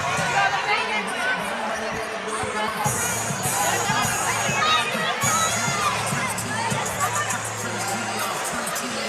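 A packed arena crowd cheers and shouts loudly and continuously during a women's college basketball game between FIU and UTEP, with children's voices and chatter woven through the steady roar.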